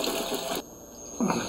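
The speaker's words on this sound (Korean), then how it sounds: "집에 온 남편이 욕실에서 발을 씻는다" Water runs from a tap in a home bathroom as someone washes their feet, a steady close splash that dips briefly before surging again.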